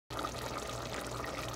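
Half a tumbler of water is poured into a pot of mutton for dum biryani, a close, steady splashing pour that begins abruptly and continues without talk.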